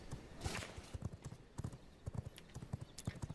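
A horse gallops in the video game V Rising, with steady rapid hoofbeats in a quick repeating rhythm, close and fairly loud, over a light background wash.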